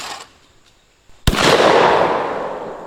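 A single loud shotgun blast at a skeet clay, a sharp sudden crack followed by a long rolling outdoor echo that fades slowly, with no talking.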